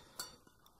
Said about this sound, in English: Little pan.